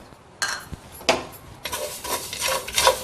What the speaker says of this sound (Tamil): நான் ஒரு மண் பாத்திரம் வச்சிருக்கேன். அதுல நம்ம வெந்தயத்தை வறுத்துக்கலாங்க